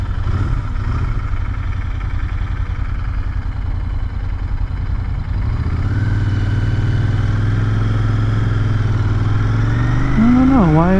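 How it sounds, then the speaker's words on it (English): A Royal Enfield Interceptor 650 motorcycle with its check engine light on idles with a close, steady, throbbing parallel-twin rumble, and its pitch rises slightly toward the end. "It idles okay."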